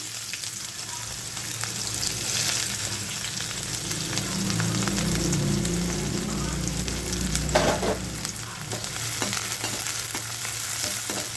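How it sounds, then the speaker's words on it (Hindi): Chopped onion frying in hot oil with fenugreek seeds in a home kitchen, a steady close sizzle with occasional stirring scrapes throughout, no voices. "इस तरह से ये थोड़ा हल्का सा मतलब ब्राउन हो जाए, प्याज आपका भुन जाए"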